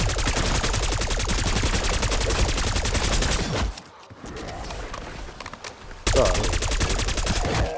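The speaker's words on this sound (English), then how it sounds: "I'm over here shooting zombies" Rapid automatic gunfire from shooting zombies in the Liberty Falls zombies video game, loud and continuous bursts with a brief lull before the firing resumes.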